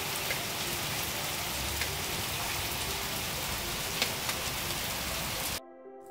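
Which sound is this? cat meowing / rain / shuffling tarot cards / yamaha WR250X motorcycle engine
rain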